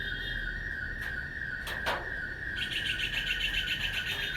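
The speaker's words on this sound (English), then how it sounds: "Birds singing." Birds chirp and sing alone outdoors, thin and distant, with brief tweets followed by a steadier repeating song over a quiet background hiss.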